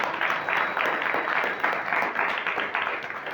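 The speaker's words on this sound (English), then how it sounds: "Give a round of applause for them." An audience applauds students of DAV Gill Nagar after their Doctors' Day and healthcare program, with dense, steady clapping that holds at an even level throughout.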